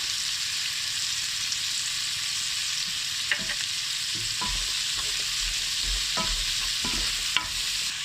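Salt goes into masala frying in a pan for paneer butter masala, with a steady close sizzle and intermittent scraping knocks of a spoon stirring, no voices.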